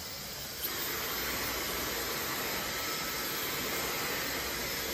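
A hair dryer blows air during a brow blow-dry, its steady airy hiss switching on early and holding at a constant level throughout.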